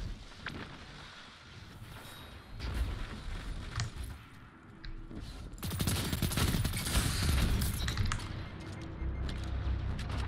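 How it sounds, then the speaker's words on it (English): Shotgun fire in a Destiny 2 Crucible player-versus-player match: loud, sharp bursts of gunfire, one near the start and then a denser, sustained stretch of shots and blasts through the second half, with no talking. "Just running around with a shotgun"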